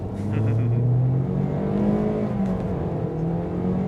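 A 2019 Toyota Corolla and a Tesla Model S Plaid accelerating nearby, giving a steady, loud engine-and-road rumble with rising tones throughout and no talk.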